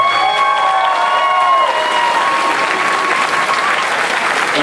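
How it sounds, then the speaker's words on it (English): A large convention audience at a costume contest applauding loudly and continuously, with scattered cheers mixed into the dense clapping. "Please, give them a round of applause right now."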